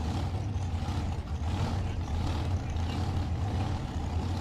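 Supercharged dragster engine at a bracket drag race, a continuous heavy low rumble with a rough, throbbing texture that stays loud and unbroken throughout, with no speech.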